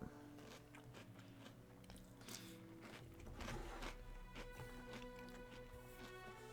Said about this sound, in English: Sorry for the light crunching in the mic.